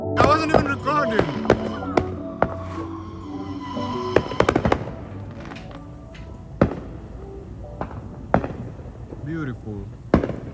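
Fourth of July fireworks bang and crackle in a burst of sharp reports, several loud pops spaced out over ten seconds, with people talking and exclaiming underneath.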